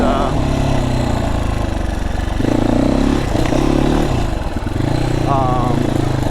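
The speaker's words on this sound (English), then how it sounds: "It is a little loud of an engine" A loud FSE300R motorcycle engine idles and revs nearby with a rough, throbbing rumble, pitch rising and falling; someone talks over it.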